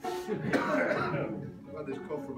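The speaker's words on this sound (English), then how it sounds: "I've had this cough for about 2 weeks now." A rough cough close to the mic, a cough lasting about two weeks, followed by some throat-clearing sounds.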